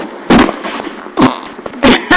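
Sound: fart

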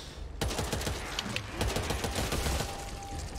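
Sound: gunfire in the video game Back 4 Blood

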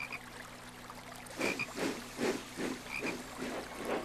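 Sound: green frog croaking by a brook

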